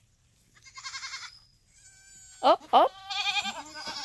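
A young kid goat on a homestead gives several close, wavering bleats, some short and some drawn out, while a person briefly speaks nearby.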